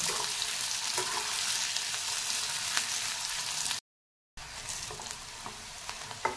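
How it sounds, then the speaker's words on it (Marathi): Onion sautéing in a pan until reddish brown gives a loud, continuous close sizzle with occasional stirring taps, broken by a brief gap of silence midway. "हा कांदा जो आहे तो आपल्याला असा तांबूस रंगावर परतून घ्यायचा"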